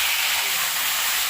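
Pumpkin, potato and green chillies fry in hot oil with dried red chilli and panch phoron, giving a steady, close, bright sizzling hiss that holds evenly throughout without any talk.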